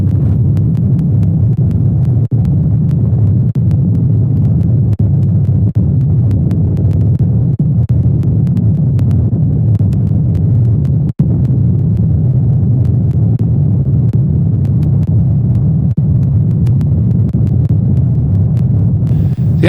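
Inside a light aircraft in flight, a steady low propeller-engine drone throbs continuously and loudly during an air start, with no talk over it.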